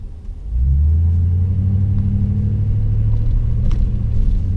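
Revving V8 exhaust of a 2018 Toyota Tundra fitted with a BAmuffler system, a steady deep throaty rumble that swells as the pedal is pressed and holds loud and close for several seconds.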